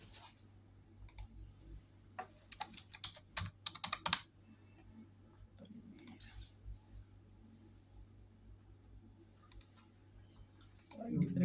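Someone types a username on a computer keyboard, with scattered bursts of quick key clicks separated by pauses against a faint steady hum, close and fairly quiet.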